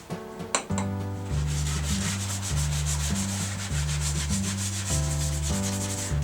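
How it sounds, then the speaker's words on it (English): Magic eraser scrubbed back and forth over bathroom tile grout, a close, steady rhythmic rubbing with repeated strokes and no talking. "we're gonna go with the magic eraser"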